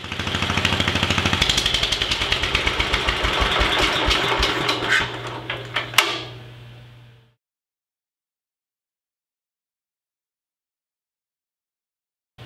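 A 1946 Wisconsin engine runs after a cold start with a loud, steady chugging idle, then shuts off abruptly and leaves silence.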